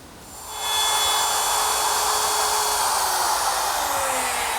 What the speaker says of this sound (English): Now to cut the mortise, I'm going to use my router, which is equipped with a straight cutting bit